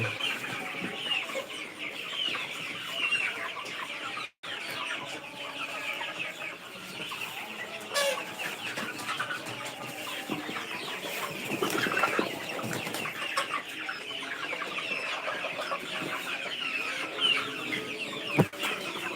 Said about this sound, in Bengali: এগুলি হচ্ছে অরিজিনাল সিপিএফ থ্রি অর্থাৎ আমরা যারা বলি টাইগার মুরগি এগুলি হচ্ছে টাইগার মুরগি